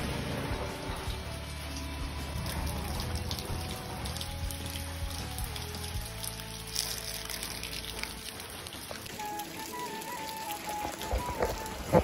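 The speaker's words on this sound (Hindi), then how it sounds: "मौसम तो ऐसे हो रहा है, लगातार बारिश ही बारिश है।" Steady, continuous rain falls during a wet-season day in Almora, Uttarakhand, a soft even hiss of drops that runs unbroken and fairly faint, with no one speaking.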